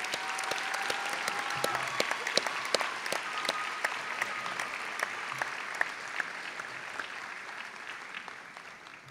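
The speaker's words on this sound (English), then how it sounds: "a round of applause for these new captains and doctors" A ceremony audience at a military commissioning and oath of office gives sustained applause, many hands clapping together in a steady crackle that slowly fades toward the end.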